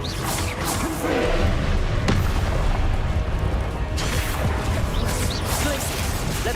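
Confringo blasting curses explode during combat in the video game Hogwarts Legacy, with sharp, crackling bursts at intervals over a dense, continuous wash of battle noise.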